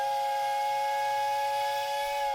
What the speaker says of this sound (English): I ran toward the train, whose whistle was shrieking.